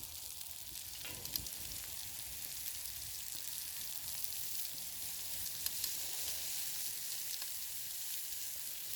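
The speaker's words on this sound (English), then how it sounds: "We got chops. I'm going to start throwing those on the grill here." Pork chops sizzling on a grill over an open campfire at a ranch, a quiet continuous crackle and hiss with scattered small pops and no talking.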